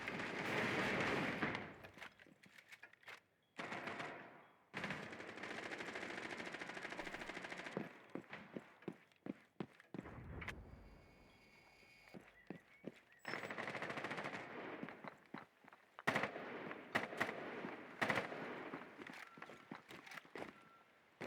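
Rapid bursts of automatic gunfire and single shots crackle in a shooter video game, loud and close, with brief gaps and footsteps between volleys.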